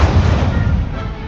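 Incendio fire spell cast during a duel in Hogwarts Legacy, a loud deep whooshing burst with heavy low rumble that fades over about a second, heard alone.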